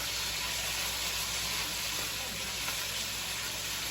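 Rice frying in hot oil in a pan as the base for yellow rice, a steady dense sizzle with fine crackling spatter that runs unbroken and fairly loud throughout, no voices over it.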